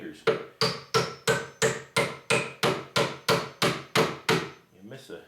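A small hammer drives nails into wood while building a platform bed: about a dozen sharp, evenly spaced strikes, close and loud, with no other sound.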